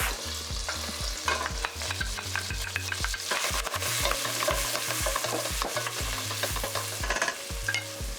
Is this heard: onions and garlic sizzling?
yes